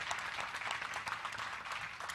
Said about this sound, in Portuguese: Uma salva de palmas para a Simone, que foi maravilhosa.